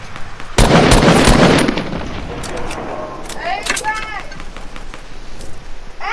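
A burst of rapid gunfire crackles loudly at the start, followed by quieter scattered shots and sharp sounds in a Fortnite Battle Royale squads firefight.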